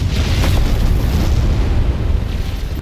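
A flame wave cannon attack in The Strongest Battlegrounds unleashes a loud, sustained roaring blast, a dense fiery rumble that holds strong for a few seconds before easing slightly.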